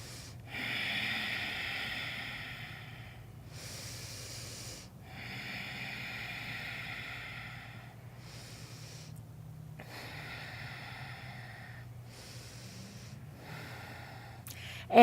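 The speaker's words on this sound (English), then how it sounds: "In and out through the nose, fogging up the back of the throat with your breath." Ujjayi breathing in and out through the nose with a throaty, hissing quality, heard as slow alternating breaths in a calm rhythm over a steady low hum, close and alone with no talking.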